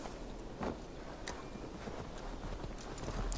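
Horse hooves clip-clop at a steady walking pace while riding in the video game Assassin's Creed Valhalla, faint and fairly close over a low ambient bed, with no talk.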